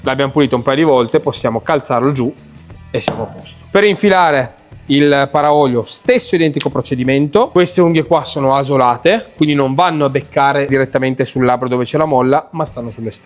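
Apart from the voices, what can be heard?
No everyday noises stand out.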